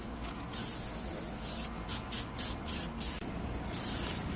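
A hose sprays soft wash solution onto a terracotta tile roof, giving a steady hiss broken into several short, louder bursts as the spray sweeps across the barrel tiles, close and without talk.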